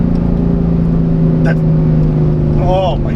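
A modified high-horsepower Corvette ZR1 engine revs loudly from inside the car with a deep steady exhaust drone and a few sharp pops, while a voice speaks over it.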